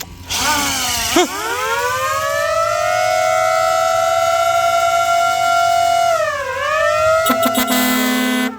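A siren mounted on a decorated farm tractor at a Thai tractor gathering wails loud and close, rising and falling in a long sustained tone, then cuts into short bursts at the end.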